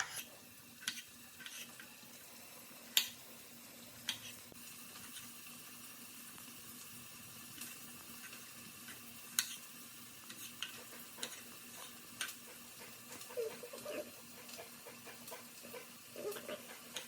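Onions frying in a pan give a soft, continuous sizzle, broken by scattered sharp clicks and scrapes from stirring utensils, quiet and close with no talk.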